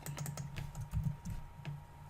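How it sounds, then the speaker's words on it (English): Computer keyboard typing in a quiet room, a brief run of light, irregular key clicks with a few firmer taps, close and alone with no talk. "I'll just type tutorial 1"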